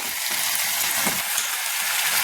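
Homegrown leafy greens sizzle and crackle steadily in a hot pan, a continuous close frying hiss with a brief stir partway through.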